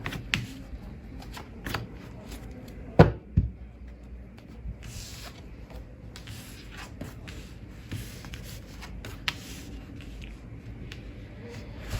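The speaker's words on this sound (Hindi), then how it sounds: "चलिए अब मैं निकालती हूँ कार्ड।" Tarot cards being shuffled and drawn by hand, soft papery riffles and slides with a couple of sharper snaps near the middle, close and quiet against a low room hiss, with no talking.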